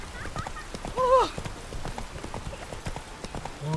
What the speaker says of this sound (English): You hear a horse is coming?